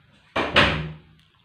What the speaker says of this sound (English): The door banged did you hear the door slam?